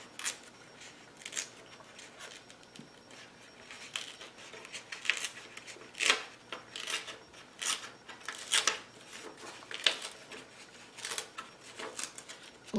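Paper is torn along its edge for journal crafting, a series of short rasping rips and rustles repeating irregularly at close range in a quiet room.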